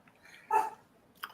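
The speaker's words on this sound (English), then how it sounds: "Fucking dog." A dog gives a single sharp bark, followed by a fainter second yelp about a second later, both fairly near against a quiet room background.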